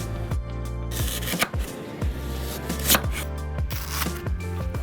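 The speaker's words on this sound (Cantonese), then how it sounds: "香茅用個錘仔剝下佢" Lemongrass stalks bruised with a small mallet while preparing Malaysian mackerel otak-otak in banana leaf: a series of sharp, irregular thuds close by, with a few louder knocks and no talking.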